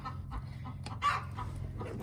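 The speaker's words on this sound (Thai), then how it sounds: "โดนแย่งไข่แล้วไก่ร้อง" A backyard hen clucks in short, agitated bursts as her eggs are taken from the nest, one louder squawk standing out, amid faint background noise.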